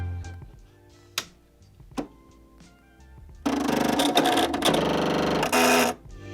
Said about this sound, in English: All I'm doing is pressing on and the machine creates a really loud noise